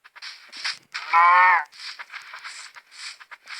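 A cow in a multiplayer adventure video game lets out one loud, drawn-out moo, framed by short clicking and crunching game noises before and after.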